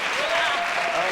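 Studio audience applauding at a 1994 French-language TV comedy show, a dense, steady clapping wash that stays loud and even throughout, with a held tone running beneath it.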